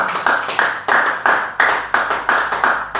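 Church congregation clapping during a sermon, a loud, close rhythm of about a dozen sharp claps in a regular pulse, with no voices over it.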